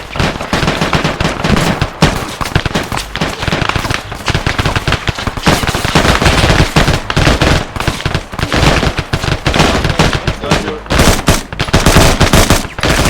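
Sustained video game gunfire during a tactical multiplayer operation, with dense overlapping automatic bursts and single shots, loud and nearly continuous throughout.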